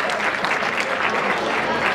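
Audience applause at a women's council award ceremony, dense, continuous clapping from a crowd in a hall, loud and unbroken throughout.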